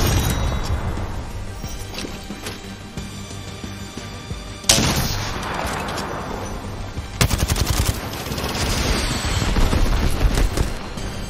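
Repeated rapid gunfire fills a firefight in the video game Apex Legends, with loud automatic bursts, sharp single shots and a few heavier booming impacts layered close together throughout.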